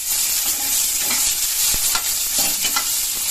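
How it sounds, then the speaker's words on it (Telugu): Chicken curry masala with coriander fries in a pan, a steady close sizzle broken by scraping stirs and light clicks of a spoon, with no talking. "కొంచెం పచ్చివాసన పోయిన వరకు అట్లా వేయించుకోవాలి."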